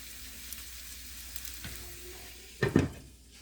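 Homemade meatballs frying in a pan with a lid on: a soft, steady sizzle with faint pops, then a couple of louder clunks and rattles near the end as the pan or lid is handled, no talking.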